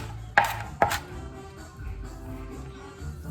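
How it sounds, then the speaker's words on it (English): A knife chops cilantro on a board, two sharp distinct chops close together early on, followed by quieter handling noise. "I've already sliced up the cilantro. Just chop up a bunch like this."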